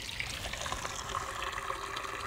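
Rainwater from a barrel behind a tiny house trickles steadily into a pitcher through a purifier, a soft continuous close-up dribble with no talk.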